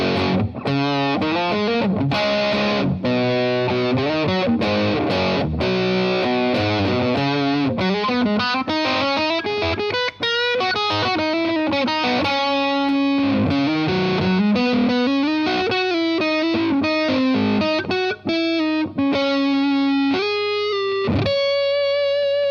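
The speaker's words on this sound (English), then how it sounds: "Let's hear it now with some humbuckers." An electric guitar with humbucker pickups, a vintage-style Les Paul, plays through a Mad Professor Mighty Red Distortion pedal, giving loud, saturated riffs and sustained chords with bending notes that ring continuously throughout.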